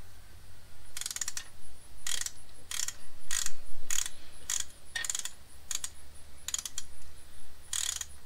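Ratcheting of a wrench while starting a bolt during repair work on a Jeep, short bursts of quick metallic clicks repeating in a steady stop-start rhythm, close and fairly quiet.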